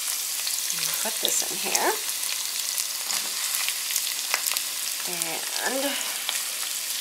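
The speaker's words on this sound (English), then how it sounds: "I have chopped up 2 onions, which I'm going to put in and start sauteing, along with about a half a bulb of garlic." Chopped onions and garlic sizzle and crackle steadily in a hot pan, a dense bright frying hiss that runs throughout while a voice speaks briefly over it.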